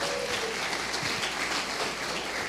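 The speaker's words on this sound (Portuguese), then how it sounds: "Mais uma vez um aplauso para o Hugo, por favor." Church congregation applauding during a sermon, a steady wash of many hands clapping at moderate distance, continuous and even throughout with no voices standing out.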